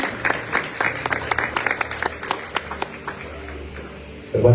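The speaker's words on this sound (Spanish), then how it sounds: "recibe una ofrenda, Señor, de aplausos y de adoración" Church congregation applauding, a mix of scattered claps that are fairly close and crisp, thinning out toward the end before a loud sound cuts in.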